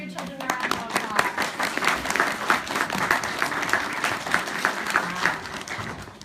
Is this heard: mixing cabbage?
no